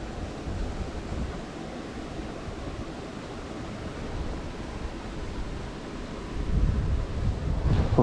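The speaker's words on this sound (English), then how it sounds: "there's a little dam over there that you can hear the water rushing over." Water rushes over a small dam at Bertram Lake, a steady broadband roar heard from a distance, mixed with wind buffeting the microphone that swells toward the end, with no talking.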